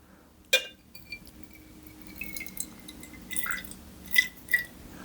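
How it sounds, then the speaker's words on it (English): Water poured over pieces of paint lifting from a 19th-century oil painting being restored, heard as faint trickles, drips and light glassy clinks in a quiet room, with a few sharper splashes toward the end. "I'm going to cover them with water."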